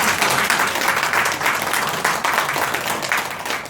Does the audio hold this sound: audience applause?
yes